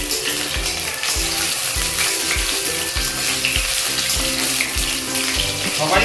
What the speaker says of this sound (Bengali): চিকেনগুলো ফ্রাই হচ্ছে, আর একটু ফ্রাই হবে। ডিপ ফ্রাই করে নেবো চিকেনগুলোকে।